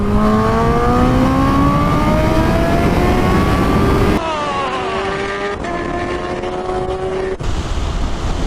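Several motorcycles accelerate hard from a rolling start in a race against a plane. Loud, close engine notes climb steadily in pitch and overlap, then drop and climb again as the riders shift up.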